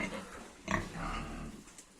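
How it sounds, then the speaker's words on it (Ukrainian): Soft grunts and snuffling from piglets, fairly close, with one sharper squeal-like grunt partway through. "Такі в нас поросятка"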